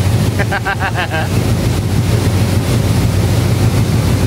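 Riding at the back of a dive boat at sea off Tioman Island, with a loud, constant roar of engine, wind buffeting and rushing waves throughout, and a brief voice near the start.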